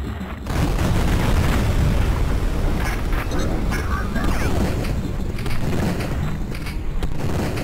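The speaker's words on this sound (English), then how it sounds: "That's a lot of explosions for underwater." Underwater explosions in the video game Duke Forces rumble as a continuous low, heavy roar with repeated booms. A person talks over the game sound.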